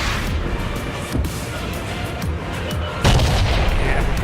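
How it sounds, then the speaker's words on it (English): Distant gunfire and booming explosions from a tank battle video game, a steady rumbling backdrop of scattered shots with a louder impact near the end. "Yeah, people are shooting at me."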